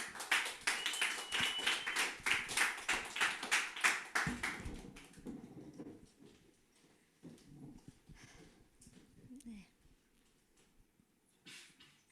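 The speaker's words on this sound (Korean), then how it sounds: "이야기를 들려주실 이제 유보라 간사님 나오실 때 기대의 박수 모두 부탁드리도록 하겠습니다" An audience at a community worship service claps to welcome a woman staff member coming forward to speak; dense applause for about five seconds, then fading into scattered faint sounds and quiet shuffling.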